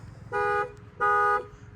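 A Fiat car horn sounds twice, two short, loud, steady honks, the second slightly longer, separated by a brief pause.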